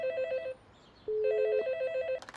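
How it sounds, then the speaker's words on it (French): A telephone ringing while calling a bookshop: a repeated electronic ring tone in short pulsed bursts, then a longer steady tone, then pulsed rings again, clear and alone with no talking. "Alors, j'appelle? J'appelle la libraire."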